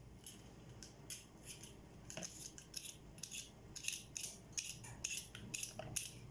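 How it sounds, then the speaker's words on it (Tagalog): Potatoes being washed, peeled and cut, heard as soft, quick scraping and clicking strokes repeating close by, with faint rattles against a quiet background and no talk. "hugasan natin at balatan natin itong patatas at ito rin, hiwain natin"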